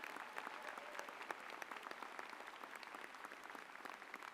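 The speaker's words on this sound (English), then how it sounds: "Full round of applause for" A university convocation audience in Calgary claps in a sustained round of applause honouring a former Finnish president, a dense, even wash of many hands heard from a distance at moderate volume.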